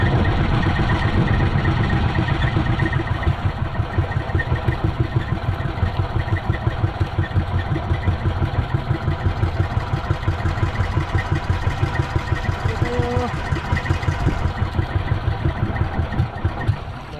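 A fishing boat engine chugs steadily with a fast, even pulse. The loud, continuous running sound goes on without a break and no one speaks.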